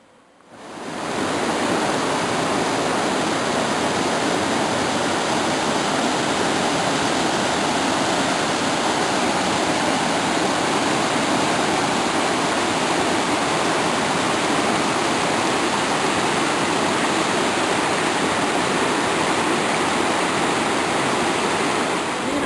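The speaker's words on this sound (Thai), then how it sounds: "ซึ่งน้ำตกก็จะไหลลงมานะครับสู่ด้านล่าง" Water tumbles down from the top of a forest waterfall in a dense, unbroken roar that rises in at the start and holds loud and steady throughout, with no voices.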